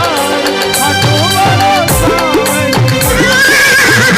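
A horse neighs loudly as a sound effect in a devotional story, a shrill whinny rising and falling in pitch, with faint hoof clip-clop beneath.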